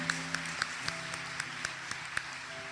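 A church congregation claps at a quick, even beat; the claps are crisp but faint and distant, with about ten distinct hits and no speech over them.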